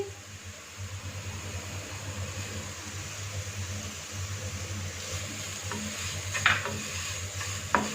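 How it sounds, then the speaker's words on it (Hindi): Sugar slowly frying in oil in a pot over very low heat for Kabuli pulao, a soft steady sizzle with a low hum beneath and a few brief clinks of stirring near the end. "इसको चीनी मेल्ट होने तक हल्का हल्का फ्राई करेंगे।"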